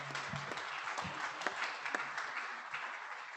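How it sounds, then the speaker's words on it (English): An audience applauds a speaker, a steady wash of many hands clapping at moderate volume, fairly distant, with a few sharper individual claps standing out. "let's give her a round of applause"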